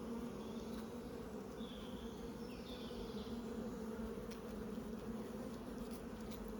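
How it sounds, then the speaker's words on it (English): Buckfast honey bees clustered around their queen in the hive, a continuous soft, even buzzing hum from many bees close by, with no talk. "Look at all the bees that around her, her attendants, giving her a bit of food there"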